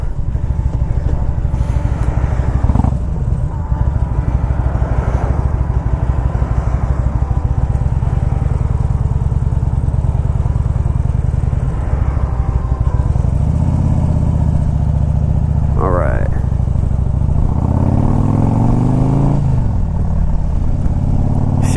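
A 2001 Harley-Davidson Ultra Classic motorcycle accelerating onto a highway, its loud engine droning steadily close to the rider, rising through gear changes with wind rush.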